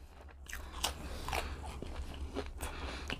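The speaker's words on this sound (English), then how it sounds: "It's thick. You gotta chew it. It's really thick." Close chewing of a thick KFC chicken and waffle sandwich, with several crisp crunching bites spread at an uneven rhythm between quieter mouth sounds, no talking.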